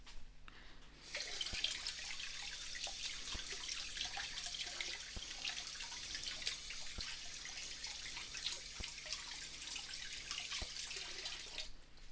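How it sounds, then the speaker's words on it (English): Running tap water rinses butter off a hand at a sink, a soft steady splashing stream with small drips and bumps, alone and fairly quiet throughout. "How am I gonna wash the butter off this hand now?"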